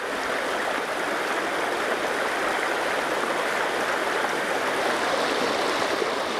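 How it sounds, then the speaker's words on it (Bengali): Floodwater of a river running above the danger level, a steady, continuous rushing wash of flowing water with no pauses, moderately loud and close. "বিভিন্ন নদ নদীর পানি বইছে বিপদ সীমার উপর দিয়ে।"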